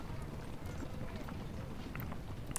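Horses' hooves clip-clop steadily in a war strategy video game, a continuous trotting patter under game sounds and talk.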